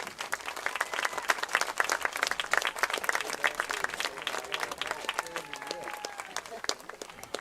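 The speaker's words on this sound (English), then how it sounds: "Please stand and show your appreciation by giving a big round of applause for these outstanding officials" A crowd at a high school football game stands to applaud the officials, steady mid-distance clapping with some cheering and voices mixed in throughout.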